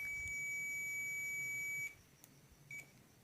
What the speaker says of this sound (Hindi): किसी भी कंडीशन में आपको बीप साउंड सुनाई देता है